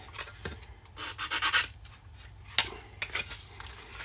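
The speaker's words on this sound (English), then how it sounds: "give it a quick sand, make sure you get the excess off" A plastic part from a Sovereign of the Seas model ship kit is sanded smooth by hand, making close, rhythmic, rasping strokes in short bursts with brief pauses.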